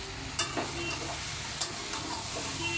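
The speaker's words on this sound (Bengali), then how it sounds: "সেই জন্যই আমি আরেকবার নাড়িয়ে নেব সবজিগুলা" Vegetables with eggplant being stirred in a frying pan during a fish curry with potato and eggplant: a steady soft sizzle with a few sharp scraping stirs of the spatula, close up and without talk.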